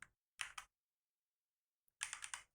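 Computer keyboard keys pressed while coding in Xcode: two quick clicks, then a short pause and a cluster of four rapid keystrokes, close and crisp in a quiet room.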